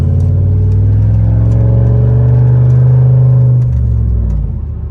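A straight-piped Pontiac Bonneville GXP engine roars loud and close, holding a deep steady rev for several seconds before the pitch drops as the throttle eases off, with no voices over it.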